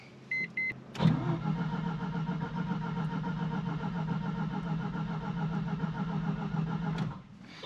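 A Mazda RX-7 rotary engine, just off a dead battery, cranks briefly and fires almost at once, then settles into a steady, close, continuous idle that cuts off after several seconds; a couple of short electric clicks come before the start.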